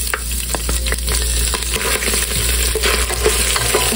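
Close, continuous sizzling of ginger frying in hot oil in a casserole pot, with occasional stirring scrapes and crackles.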